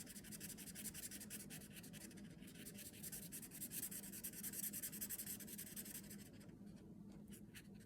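A marker squeaks and rubs across paper while decorations are drawn onto a sugar skull picture, a close, quiet, continuous scratching of short strokes that thins out near the end.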